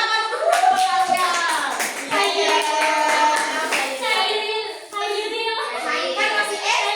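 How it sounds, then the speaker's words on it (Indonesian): A primary school classroom breaks into applause for students after a poetry reading, brief quick clapping heard under loud cheering children's voices and singing-like shouts that dominate throughout. "Ini tepuk tangan dulu buat kalian."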